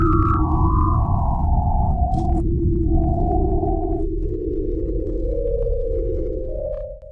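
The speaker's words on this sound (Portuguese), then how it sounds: "de um desses planetas, Gliese 581d, foi recebido um sinal há alguns anos" A signal said to come from the planet Gliese 581d plays as a loud electronic drone, with gliding and stepping tones over a deep rumble, steady for several seconds before fading out at the end.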